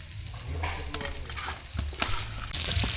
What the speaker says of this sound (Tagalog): Gisa na.